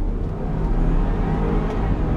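A 2016 Land Rover LR4 HSE Lux accelerating hard in first gear in sport mode, its engine giving a steady, loud, low rumble heard from inside the cabin.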